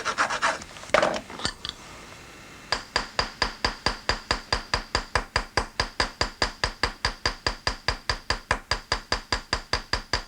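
A hammer strikes steadily to spread a rivet head into the countersink of a pen knife in a Sheffield metalworking shop: dozens of close, evenly spaced metallic taps after a few scrapes and knocks, with no talking.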